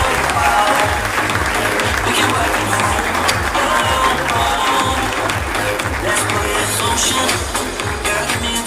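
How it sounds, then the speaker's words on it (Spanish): Dense, sustained applause from a crowd at a school tribute to teachers, loud and even throughout with a faint hum of voices in the hall. "fuerte el aplauso, gracias por sus 25 años"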